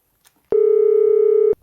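A single loud, steady electronic telephone tone sounds for about one second, then cuts off abruptly, with near silence around it.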